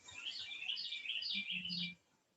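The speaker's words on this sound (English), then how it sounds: "Can you hear that bird?" A bird chirps outdoors in fairly faint, quick repeated high-pitched notes over about two seconds, with low background noise and no talking.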